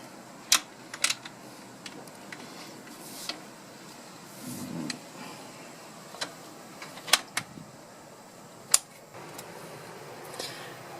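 Cylinder head bolts on a Morris Minor sidevalve engine being loosened with a wrench: sparse, sharp metallic clicks and ticks up close, over a quiet background hum.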